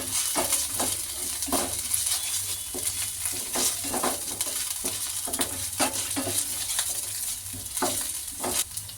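Masala for gobi manchurian frying in a pan, a steady broadband sizzle with repeated scraping stir strokes of a spoon against the metal, close and continuous with no talking.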